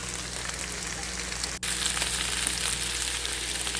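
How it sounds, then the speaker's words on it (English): Chopped onion hits a hot frying pan for Peruvian Pollo Saltado, a steady close sizzle that briefly cuts out and then comes back louder and fuller as it keeps frying, with no talk. "And now let's add in our onion,"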